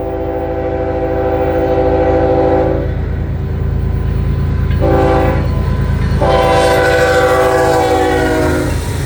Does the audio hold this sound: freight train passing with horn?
yes